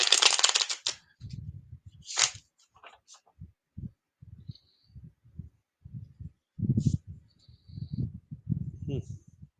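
A deck of Blacklight Tarot cards is shuffled in short, papery bursts and riffles, with soft taps and rustles between them and a low voice murmuring now and then.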